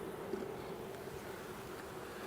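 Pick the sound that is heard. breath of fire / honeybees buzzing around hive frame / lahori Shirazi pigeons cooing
honeybees buzzing around hive frame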